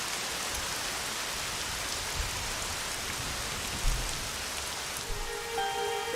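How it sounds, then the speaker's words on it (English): Steady rain pours down in the video game Dragon Quest XI, a dense even hiss of drops on surfaces with no voices over it. "Just suddenly started raining out of nowhere."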